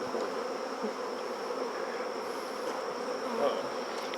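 Honeybees swarm around an opened hive during an inspection, their dense, even buzz filling the air at close range with no voices over it.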